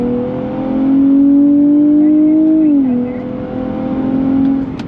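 A 2023 Nissan Z Performance on a track, its engine accelerating on the throttle with a loud, steady droning tone that climbs, dips briefly at a shift, then carries on.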